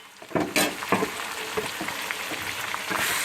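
Ginger and garlic frying in oil in a pan for a chicken kadhi, a soft steady sizzle with a few stirring scrapes and taps, close and alone.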